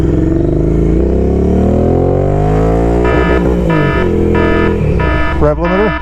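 A Royal Enfield Interceptor motorcycle fitted with an S&S Qualifier 2-1 exhaust revs loudly and close by. Its engine tone climbs, then comes in several short repeated bursts that sound like it is bouncing off the limiter.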